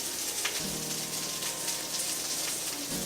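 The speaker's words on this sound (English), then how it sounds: "my sausage is still cooking" Vegan sausage sizzling in a pan, a soft, steady crackle and hiss with a few brief louder pops, heard up close and with no talk.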